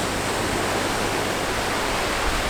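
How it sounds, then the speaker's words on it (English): Steady broadband rush of a small river flowing into the sea at a Phuket beach, continuous and fairly loud, a dense hiss of running water with no voices. "On the north end, there's a little river coming in."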